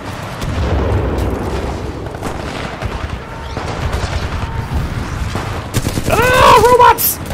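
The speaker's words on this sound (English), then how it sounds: "Oh, there's a grenade!" A grenade blast and bursts of gunfire in the video game Titanfall 2, loud rumbling booms and rapid shots up close, with a sharp electronic warbling sound near the end.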